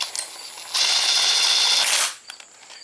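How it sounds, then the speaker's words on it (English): An impact wrench drives a bolt home during a repair on a Toyota Camry, giving one loud, rapid hammering burst of about a second and a half, close by, with quiet workshop sounds before and after. "Buzz the bolt in."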